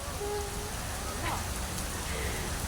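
Rain falls steadily at a beach, a dense even hiss of drops on surfaces throughout, with faint voices in the background.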